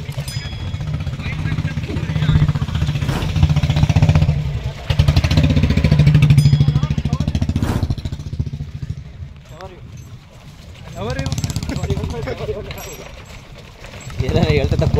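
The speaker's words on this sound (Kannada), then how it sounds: "ಬುಲೆಟ್ ಬರ್ತೈತೆ ಗೈಸ್" A Bullet motorcycle rumbles along a hilly road near Ballari in rainy weather, its low engine thump rising and falling as it rides, with someone talking over it.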